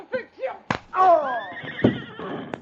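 A horse whinnies in a 1949 radio drama set in the Yukon, a loud, quavering neigh of about a second, with a sharp slap or blow just before it and brief voices around it.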